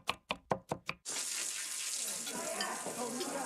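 Food frying in a pan gives a loud, steady crackling sizzle that starts abruptly after about a second of five rhythmic knocks or taps, then continues dense and bright to the end.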